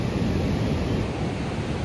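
A strongly flowing river in flood, a loud, steady rushing roar of water with no pauses and no voices.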